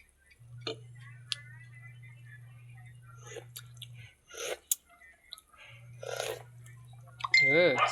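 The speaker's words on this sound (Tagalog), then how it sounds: "tapos titikman na po natin ang ating sinigang" Someone tasting sinigang na baboy, pork sour soup, with close soft slurps, wet mouth clicks and chewing, a low steady hum underneath and a brief voice near the end.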